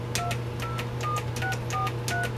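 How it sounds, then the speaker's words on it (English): Rapid DTMF telephone tones from a tone generator dialing a number, about eight evenly spaced short beeps over a steady low hum. "you can also use this here one to dial the number"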